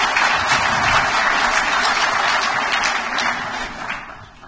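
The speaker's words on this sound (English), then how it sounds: "Please give her a round of applause." Steady audience applause at a conference opening plenary, a dense, continuous wash of many hands clapping that holds strong and then begins to taper slightly toward the end.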